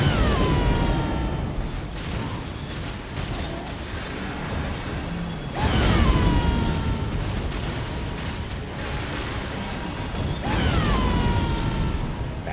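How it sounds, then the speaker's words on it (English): A magic item in Elden Ring, firing a spread of seeking missiles, sets off repeated booming bursts that arrive in waves over a sustained rumbling, mechanical din. "That's a big explosion of damage"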